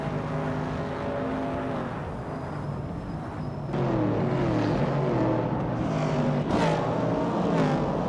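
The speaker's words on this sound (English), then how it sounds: "Nuts is driving a 1969 Chevrolet Camaro." A 1969 Chevrolet Camaro race car drives steadily through a racing game, its engine a continuous droning roar that swells in pitch and loudness partway through as it accelerates, with no voices over it.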